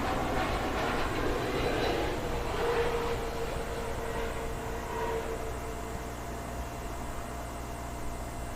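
A Royal Brunei airliner inbound from Dubai arrives at London Heathrow, its broad, steady jet roar filling the air and slowly easing off as it passes.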